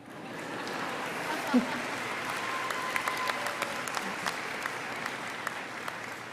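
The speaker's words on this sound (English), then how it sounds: "Yeah, you can clap." A university convocation audience in an outdoor mall applauds after degrees are conferred, a dense sustained clapping from a large crowd with a few sharper nearby claps standing out.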